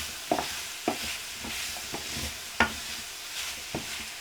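Mushrooms frying in plenty of oil in a big pan for a chicken and mushroom pie are stirred around, giving a soft sizzle under a series of spaced spoon scrapes and knocks at close range.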